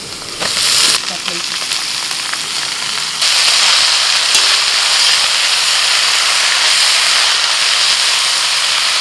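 Soft red amaranth greens fry in a hot wok with a loud, close, steady sizzle and hiss that surges as the leaves are stirred, with a few faint scraping knocks.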